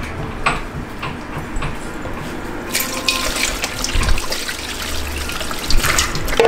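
Water is poured and splashes while a large shark is cut up and cleaned for curry, a trickling flow that grows into a louder, steady gush partway through, close by with no talking.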